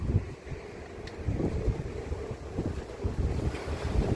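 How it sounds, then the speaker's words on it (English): Strong wind blows outdoors around a home on a windy day, a loud, gusting rumble buffeting the microphone with no one speaking. "That's the wind out here."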